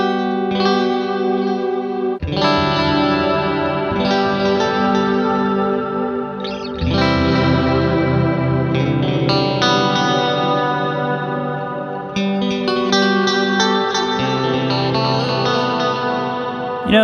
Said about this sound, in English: Slowly start to bring the reverb in.